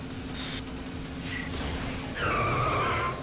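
A car drifting in the video game Yakuza 5, its tires squealing in a few short screeches and then one longer, louder skid over a steady engine drone, close and alone.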